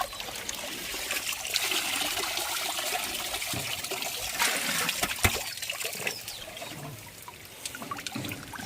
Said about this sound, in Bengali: এই যে পানি পড়তেছে, এভাবে যদি মেপে নেওয়া হয় তাহলে কোনো সমস্যা নেই